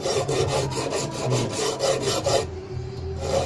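Quick back-and-forth rasping strokes of a small, fairly coarse saw biting into silver while making a square chain necklace, close up, in a steady rhythm that halts near the end.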